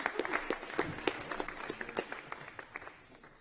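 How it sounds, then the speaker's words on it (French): A small audience at a student association campaign debate gives brief, sparse applause of distinct individual claps that thin out and fade within a few seconds. "Merci, on peut les applaudir."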